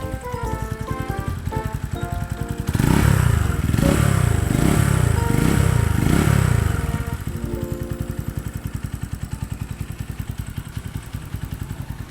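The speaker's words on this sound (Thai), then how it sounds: "เดี๋ยวเบิ้ลให้ฟังนะครับ" A 2021 Stallion Makina 170i fuel-injected motorcycle idles steadily, then revs up in several loud pulsing blips for a few seconds before settling back to a quiet, even idle.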